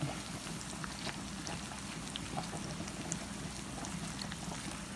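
Tomato paste sizzling and bubbling directly against the bottom of a pot while cooking stuffed peppers, a steady dense crackle of small pops that stays constant and moderately quiet throughout.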